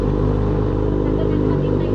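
A Kawasaki Z900RS motorcycle engine idles on its own after a cold start at a resort, a steady low rumbling throb close by, with a voice talking over it.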